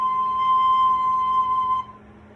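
A soprano recorder holds a steady, pure high C for nearly two seconds, clear and fairly loud, then stops, leaving faint background hum with no talk.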